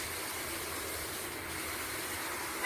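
A small city tram runs along as a steady, moderately loud rumble with a broad hiss on top, continuous throughout and free of speech.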